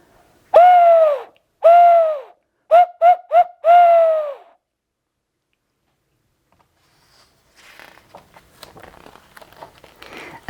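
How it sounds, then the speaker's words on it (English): Five hoots, two long, then three quick short ones and another long one, clear and fairly close, followed by faint rustling. "The sound of a great horned owl."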